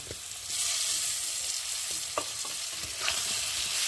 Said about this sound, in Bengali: যতক্ষণ না মশলাটা কাঁচা গন্ধ যাবে ততক্ষণ মশলাটা ভালোভাবে কষিয়ে নেব